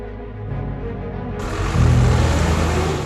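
A material-hauling truck crossing a muddy teak forest, its deep engine rumble swelling louder partway through as the vehicle draws near.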